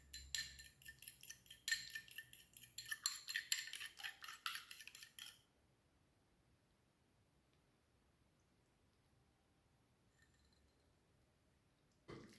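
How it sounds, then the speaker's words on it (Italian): An egg being beaten in a bowl for an eggplant meatloaf, a quick run of light, dense clicks and taps of a utensil against the bowl for about five seconds, then near silence with no talking. "Battiamo l'uovo e lo mettiamo in ciotola."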